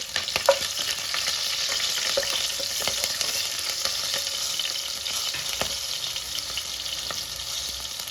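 Onions frying in a pan with slit green chillies, a steady loud broadband sizzle with scattered stirring scrapes, no talking.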